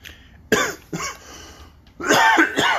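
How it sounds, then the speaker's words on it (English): Several harsh, close coughs in quick bursts, the last ones louder and rougher, with a short quiet gap between. "Or I'll just start coughing."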